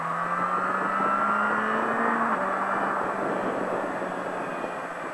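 A Triumph Street Triple motorcycle accelerates out of a corner on the Le Vigeant circuit, its engine note climbing steadily and loud throughout, with a brief shift partway through and wind roar underneath.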